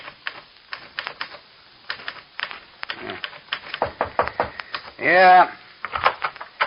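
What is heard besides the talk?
typewriter typing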